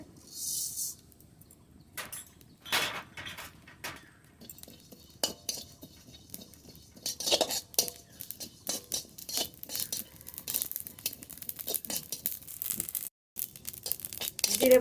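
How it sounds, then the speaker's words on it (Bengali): Cumin seeds are dry-roasted in a pan, with a spoon repeatedly scraping, rattling and clinking against the metal as the seeds are stirred, in irregular bursts of varying loudness. "শুকনো খোলায় আগে জিরেটা ভেজে নেব"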